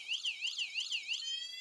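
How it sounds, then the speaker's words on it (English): A thin electronic siren from a ZenWheels toy car wails in a fast rising-falling pattern several times, then shifts to a steady tone; small and tinny, like a toy. "Now it's got like Siren Mode."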